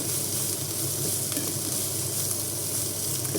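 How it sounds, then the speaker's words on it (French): Bell peppers sauté in a frying pan for a Mexican-style rice dish, giving a steady, close sizzle with soft crackle that runs evenly throughout without any talking. "on fait revenir les poivrons"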